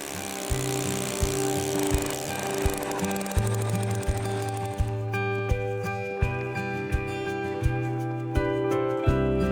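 A power auger bores through frozen lake ice with a loud, steady mechanical whine broken by rhythmic clanking knocks, close up, with no talk.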